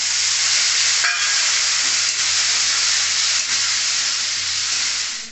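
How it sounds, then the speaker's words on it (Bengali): A spice paste of ground ginger, cumin and chilli, loosened with a little water, fries loudly in a pan, a dense continuous hiss-like sizzle close up with a few faint stirring knocks and no talk. "এখন হচ্ছে মশলাটাকে ভালো করে কষায় নিতে হবে"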